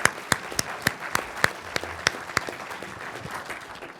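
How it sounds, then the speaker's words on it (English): An audience at a city mayoral candidates debate in Salem gives brief applause, a handful of distinct, fairly sparse claps heard at a moderate distance in a quiet room. "I think we can all applaud for that one."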